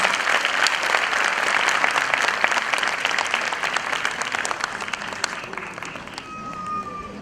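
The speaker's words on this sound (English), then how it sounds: "can we have a thunderous round of claps for them, please?" An audience at a Euro Kids school annual day gives a sustained round of applause, dense and steady clapping from a large crowd that gradually thins toward the end.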